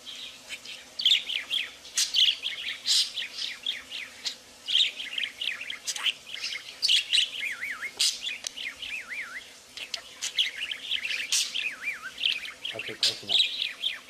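A budgie chirps and warbles with a busy run of bright tweets and trills, close to the microphone, over about fourteen seconds with faint background noise.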